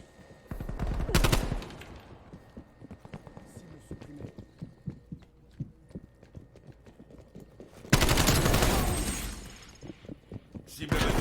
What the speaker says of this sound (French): J'active une tourelle automatique.